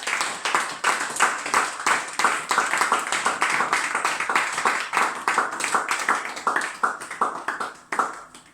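A church congregation claps in steady rhythm to acclaim the Lord Jesus, loud and continuous hand claps in a brisk, even beat throughout with no voices above them.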